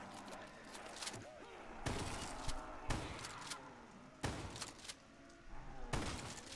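Gunfire in a Call of Duty Black Ops zombies match on The Giant map: short bursts of shots and thuds, moderately loud, played solo with no talk.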